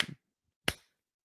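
A single sharp hand clap made on a countdown during a podcast recording, one crisp isolated smack close to the microphone, preceded by a brief soft sound and followed by silence.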